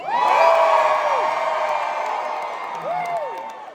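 A concert crowd of parents at a live Christian music tour show yells and whoops loudly, a dense roar of many voices that swells, fades and then rises again.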